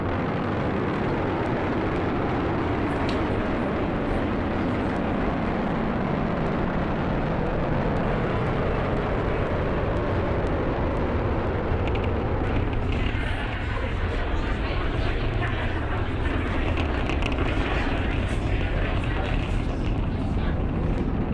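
Falcon 9 rocket engines producing 1.7 million pounds of thrust during the Crew 10 liftoff, a steady, dense, continuous roar filling the whole clip at even loudness, with broadcast narration likely mixed in.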